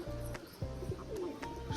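Newly bought pigeons kept at home give a repeated series of deep, throaty coos in a steady rhythm, near and fairly quiet, with no talking.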